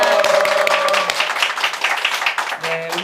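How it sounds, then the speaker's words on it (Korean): Church congregation clapping to welcome a deacon to the stage for a testimony talk, a steady patter of applause rising and then thinning, with a voice speaking over the opening part. "우리 박은혜 집사님을 박수로 모시겠습니다"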